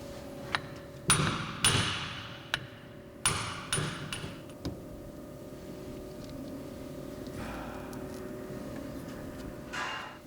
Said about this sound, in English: then drift out the retainer